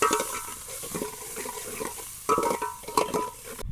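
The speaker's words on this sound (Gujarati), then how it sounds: "મીઠો લીમડો, હિંગ, ડુંગળી, લીલા મરચાં મિક્સ કરી દઈશું।" A spoon stirs curry leaves, asafoetida, chopped onion and green chillies in hot oil in a pan while cooking Kathiyawadi dal dhokli. Close scraping strokes come over a soft sizzle, with a couple of sharper clinks against the metal.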